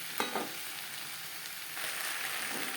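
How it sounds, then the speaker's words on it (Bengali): Cauliflower stalks and grated coconut sizzle softly in a pan over a high-to-medium flame, with a few light stirring scrapes and a steady low crackle. "হাই টু মিডিয়াম ফ্লেমে দু তিন মিনিট নাড়াচাড়া করে নেব"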